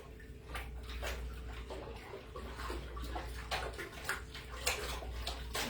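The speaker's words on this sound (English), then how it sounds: "but I am sloshing because I want oxygen" Mead must sloshes inside a container as it is shaken to add oxygen, giving irregular close splashes and liquid slaps over a low steady hum.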